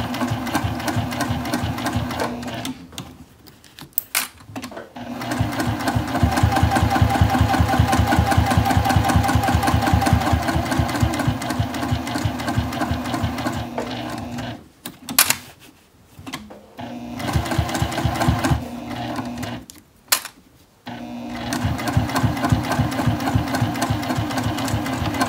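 A sewing machine runs steady rapid stitching right up against a D-ring while making an ID holder, a loud mechanical whir held for several seconds at a time with brief pauses between runs.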